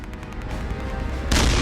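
A tank gun fires an anti-personnel shell at an enemy gun hidden in trees during the Battle of Stalingrad, a sudden loud blast at the end after a low rumbling lead-in.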